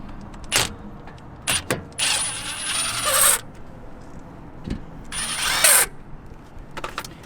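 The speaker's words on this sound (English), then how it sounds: "fully take those bolts out" Power tool backing brake caliper bolts out of the front brakes on an E70 BMW X5, heard as two sustained whirring bursts separated by brief clicks and metallic taps, fairly close with no talking.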